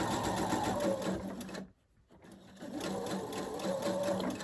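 A sewing machine stitches a piece of fabric with a rapid, steady mechanical chatter. It pauses briefly, then resumes at the same close, even pace.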